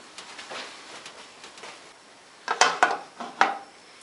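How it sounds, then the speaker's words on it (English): A small knob of butter is swirled in a non-stick pan over medium-low heat, with soft scraping and light rattling followed by a few sharp, close clinks of the pan near the end. "So swirl the butter around just until it's melted"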